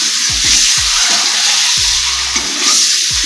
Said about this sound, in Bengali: লাল করে করে ভেজে নেবো আমি